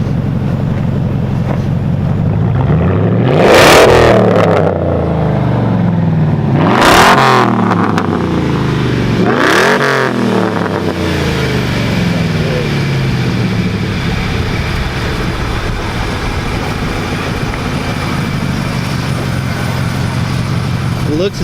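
A V8 engine revved three times in quick bursts, each one a rising roar that falls away, loud and close outdoors with wind buffeting the microphone.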